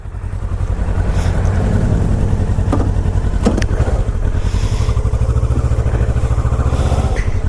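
A Kawasaki Ninja 650 motorcycle engine runs with a steady throbbing pulse, rising slightly and holding a loud, close drone throughout.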